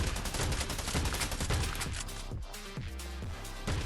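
Rapid gunfire during a fight in the Scarfall 2.0 video game, dense loud bursts of shots that continue without a break and thin out toward the end, with no speech.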